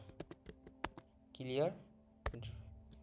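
Typing the clear command on a computer keyboard in Kali Linux, several crisp, separate keystrokes followed by a final louder tap, close and quiet, with a voice speaking briefly in the middle.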